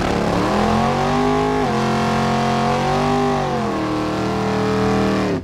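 A vehicle in Farming Simulator 19 drives along a twisty, narrow road, its engine a steady loud drone whose pitch rises and falls with throttle changes, with no talking over it.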